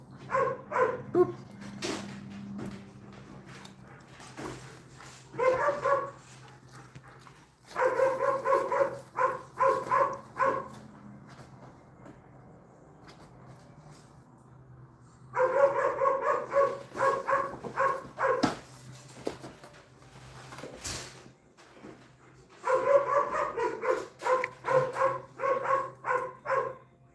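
Dogs barking in repeated bursts, several rapid rounds of loud close barks with quieter pauses between, occasional whimpering yips, no talking.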